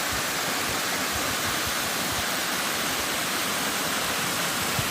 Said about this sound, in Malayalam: പ്രകൃതി സ്നേഹികളുടെ മനം നിറച്ച് ഒഴുകുകയാണ് കടങ്ങോട് മല്ലൻകുഴി നീർച്ചോല